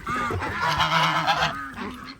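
Rescued geese at a farm animal sanctuary pond in the mountains, honking in a close, loud burst of overlapping nasal calls, with more honks trailing off near the end.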